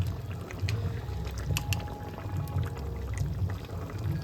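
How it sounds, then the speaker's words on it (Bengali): Strained tamarind being poured into a simmering Bengali chicken curry with tamarind dal, a soft continuous liquid pour and bubbling with faint clinks, close and fairly quiet, with no voices. "এবার ওর মধ্যে তেঁতুলটাকে আমি স্টেন করে দিয়ে দেবো"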